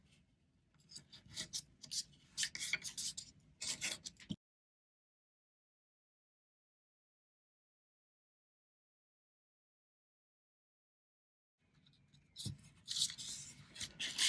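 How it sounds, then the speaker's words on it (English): Paper is folded for a holiday ornament with close, crisp rubbing and creasing strokes, followed by a long stretch of silence and then more folding at the end. "we're going to fold it towards that center X"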